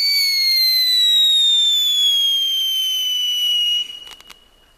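A screaming firework whistles loudly with a long, slowly falling high pitch, then ends in a burst of sharp crackles before fading.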